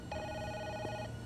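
A single short telephone ring sounds from nearby over a low background hum, no voices present.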